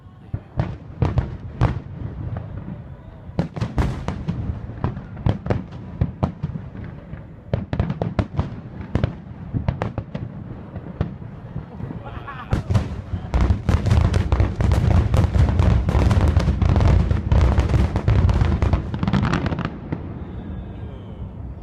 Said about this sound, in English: this is the finale to that fireworks show